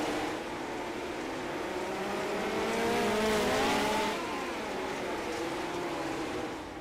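Sim-racing midget cars at Tulsa during a Chili Bowl event, with several engines whining together and pitches climbing and weaving as they run side by side. The sound swells louder in the middle, then settles, with no talk.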